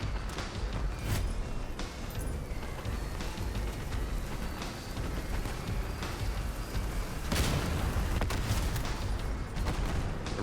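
Dense booming and crackling barrages of cannon fire in the video game Crossout roll on continuously, with a heavier burst of blasts partway through, no voices.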